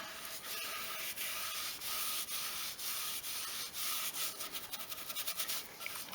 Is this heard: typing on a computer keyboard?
no